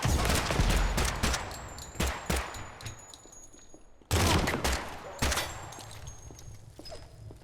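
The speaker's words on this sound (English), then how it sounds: "Oh, that's a grenade" A grenade explodes in a first-person shooter game during a firefight with fascist enemies and cops, two loud blasts with rapid gunfire crackling around and between them.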